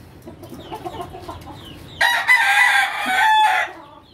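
A brood cock rooster crows once loudly and close after a stretch of soft clucking and faint background fowl sounds, the crow lasting about a second and a half.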